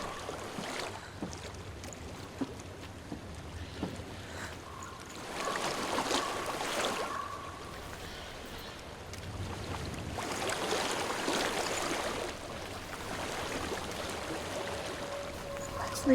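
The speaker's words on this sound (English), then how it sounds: "I hear water." Flowing water in the video game Hellblade: Senua's Sacrifice, a steady rushing wash that swells and fades in broad surges under a low ambient hum, fairly quiet and continuous.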